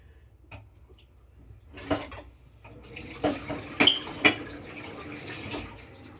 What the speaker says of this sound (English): I gotta wash my hands.